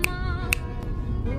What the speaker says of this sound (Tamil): வேணும்னா இன்னும் 4 சொடக்கு போடுறேன்.